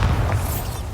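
Bombarda blasting spell in Hogwarts Legacy, a single deep booming blast that fills the whole second, loud and low with a rumbling tail.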